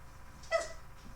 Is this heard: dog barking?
yes